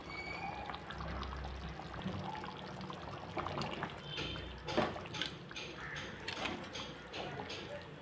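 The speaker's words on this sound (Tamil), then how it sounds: "இப்போ வந்து நம்ம மீனை உள்ள சேர்த்துடலாம்." Fish goes into a pot of fish curry already at a boil, making a soft wet pouring and splashing sound with faint trickles over low background noise, quiet and close.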